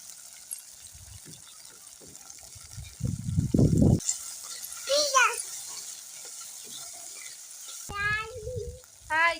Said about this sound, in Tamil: சுண்டைக்காயை நல்லா வதக்கி எண்ணெயிலேயே வறுத்துட்டு